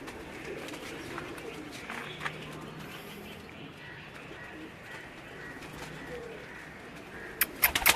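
Fantail pigeons coo softly in low, repeated murmurs against a quiet rustling background on a Lahore rooftop, with a few sharp clicks and taps toward the end.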